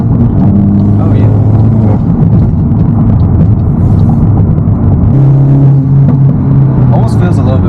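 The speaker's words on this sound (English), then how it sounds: "Almost feels a little bit more responsive when you step on the gas in 4th gear, 3rd gear" A Mk8 VW GTI with an APR pendulum/dogbone mount installed accelerates through third and fourth gear, its engine a steady loud low drone and rumble throughout, with a voice talking over it.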